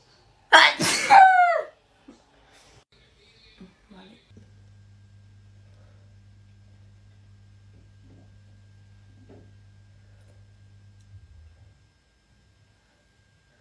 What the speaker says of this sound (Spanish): Estornudo, covitudo